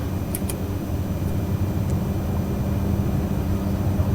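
An aircraft engine held at takeoff power during the takeoff roll, a steady, loud, close drone that runs unbroken throughout, with a few faint high chirps near the start.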